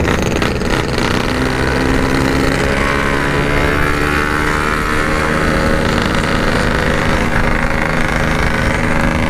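A Yamaha RX two-stroke motorcycle engine drones steadily while being ridden, the continuous buzzing exhaust loud and close with no pauses throughout.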